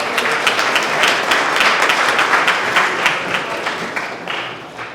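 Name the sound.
applause for Al Shal at a medical network launch event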